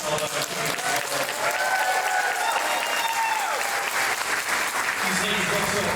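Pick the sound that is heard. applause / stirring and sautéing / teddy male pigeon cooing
applause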